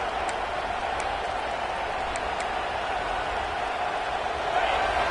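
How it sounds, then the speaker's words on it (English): A college football stadium crowd at a Penn State game roars as a dense, steady wash of distant noise, with a commentator's voice speaking over it. "Listen to the crowd energy here in the early going."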